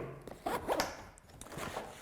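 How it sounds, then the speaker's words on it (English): A zipper on the pocket of a GPS Tactical shooting range backpack being pulled open in a few quick raspy strokes, close and crisp, with light rustling of fabric in between. "I've got a little zipper for some tools"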